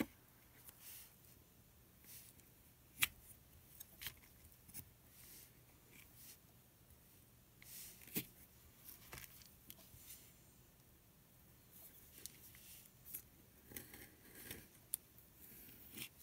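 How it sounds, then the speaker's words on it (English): Quiet, intermittent snips and scrapes of a tool cutting a pointed shape out of craft clay, close and soft, with small clicks and pauses between cuts. "It's going to be tricky to cut this out actually because of the points, but let's just have a go."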